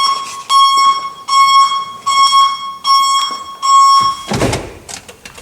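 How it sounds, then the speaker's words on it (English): Backup alarm on a fire truck beeping loudly and close, five steady electronic tones in an even on-off rhythm, followed by a brief clunk. "Made sure it had a backup alarm."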